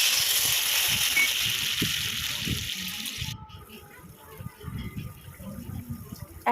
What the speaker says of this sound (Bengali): বেশ ভাজা ভাজা হয়ে এলে ঝোলের জন্য জল দিতে হবে।